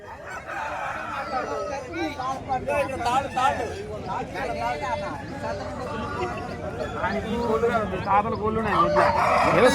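Roosters crow repeatedly amid busy crowd chatter at a poultry market in Bhadradri Kothagudem, their calls mixing with voices and general market bustle at a steady, noisy level.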